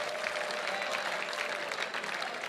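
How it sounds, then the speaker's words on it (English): Applause from a dinner gala crowd fills a large hall, a steady, even patter of many hands clapping at moderate loudness throughout. "can we give a big thank you, a big round of applause to the team from Casper's for taking care of us tonight?"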